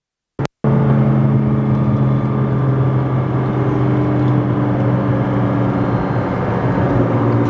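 A 2014 Nissan GT-R making 1380 wheel horsepower on straight E85 pulls on boost, a loud, steady engine drone from inside the cabin following a brief click.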